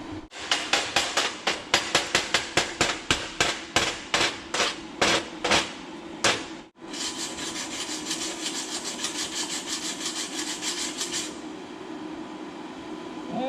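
Chipping hammer knocking slag off a DC stick arc weld, a quick run of sharp, evenly spaced metallic taps close by, then a steady scraping rub, likely a wire brush, with no talk over it.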